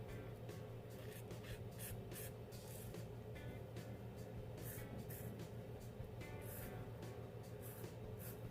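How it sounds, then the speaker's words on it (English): Running water rinses a shaving razor at a sink, a quiet continuous spray with small splashing bursts as the blade passes through the stream. "Just going to rinse that razor off a little bit."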